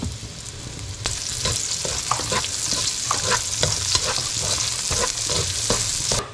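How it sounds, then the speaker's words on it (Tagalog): Garlic and onion sauté in oil left from frying Spam, making a dense, steady sizzle. Repeated stirring scrapes and taps sound close by throughout. "dito sa pinagprituhan ng spam ay pagigisa na tayo ng bawang at sibuyas"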